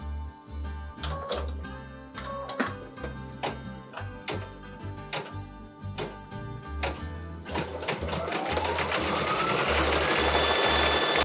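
An embroidery machine stitching the white wall of a tire in cashmere-colored thread, a steady close mechanical chatter of rapid stitches that swells into a louder continuous whir near the end.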